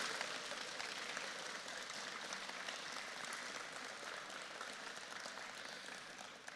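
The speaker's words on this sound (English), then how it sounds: "everyone give a round of applause for their continued involvement" Faint, distant applause fills a large hall at a high school robotics competition qualifier as alumni are recognised, a soft continuous patter that slowly tapers without any speech.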